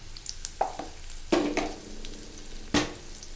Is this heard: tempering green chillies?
yes